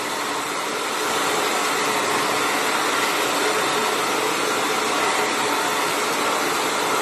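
Close, loud hair dryer roars without a break while heating a plaster mould for casting soft fishing lures, its airflow whoosh swelling slightly after the first second and then holding steady.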